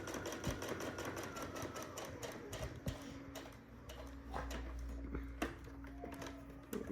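A sewing machine stitches a narrow seam around the edge of fabric with a rapid, even mechanical ticking over a low motor hum, close and steady, with no voices.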